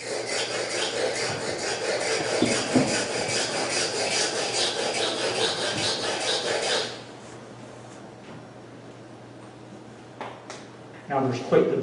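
A steel blade rubbed back and forth on a sharpening stone, the same technique used for a chisel, giving steady rasping strokes for about seven seconds before falling quiet, with a few faint scrapes near the end.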